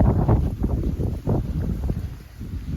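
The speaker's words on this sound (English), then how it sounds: "just talking a bit louder because the wind's come up" Wind gusts buffet an outdoor microphone in a loud, uneven low roar that swells and dips with each gust, with no voices.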